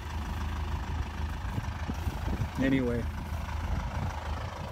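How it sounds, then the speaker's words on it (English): A tractor engine idles steadily while mowing a thick alfalfa field with a Discbine, a continuous low drone with someone talking over it. "other than that, the tractor's doing just fine"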